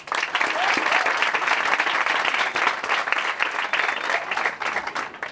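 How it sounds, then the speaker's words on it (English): An audience at a charity event in Jamaica applauds, producing sustained, dense clapping that stays loud and steady throughout, with only faint voices mixed in. "So let's give a round of applause."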